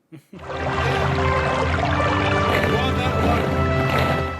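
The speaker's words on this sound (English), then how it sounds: "That water is Audio loud." Loud rushing water in a movie scene, a dense, steady roar that starts abruptly after a brief moment and stays strong to the end, with voices speaking beneath it.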